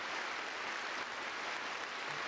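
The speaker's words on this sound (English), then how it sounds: "Well, somewhat muted applause." Muted applause from a figure skating arena crowd at a men's free skating Grand Prix event, a steady broadband wash of distant clapping sustained without breaks throughout.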